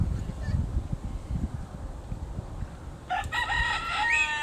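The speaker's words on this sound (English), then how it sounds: "And yes, those are chickens." Rooster crowing with clucking chickens, heard during a live baseball game broadcast: a loud, clear crow bursts in near the end after several seconds of low, rumbling crowd and field noise.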